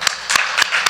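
A church congregation claps in rhythm, four sharp, evenly spaced claps over a steady wash of sound in a large room.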